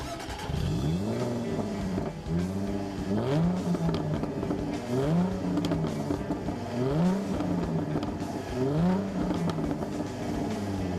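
An F-Type sports car engine roars and revs repeatedly, rising and falling in pitch in a steady cycle, loud and close with no talk.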